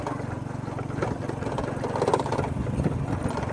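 A motorcycle engine runs steadily while a learner rides, a close, continuous low rumble at an even level throughout.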